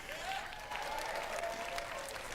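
A large audience applauding at the Bethesda E3 2018 showcase, continuous dense clapping heard from within the crowd, steady and moderately loud throughout.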